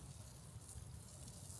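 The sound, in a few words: chicken wings sizzling on grill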